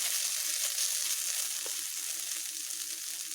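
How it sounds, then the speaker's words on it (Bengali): Green plantain peels frying in a pan, giving a dense, even hiss of sizzling oil with little else, close and steady for a few seconds. "এবার এগুলোকে আমি আরও একটু ভালোভাবে ভেজে নেব।"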